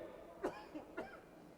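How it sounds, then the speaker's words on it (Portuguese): A person coughs two or three times, short and dry, fairly faint against a quiet room during a plenary session. "eu queria pedir desculpas aqui pela minha tosse"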